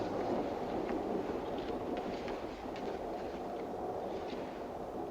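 A train moves along the rails with a low, continuous rolling rumble and faint clicking, a muffled steady background without voices.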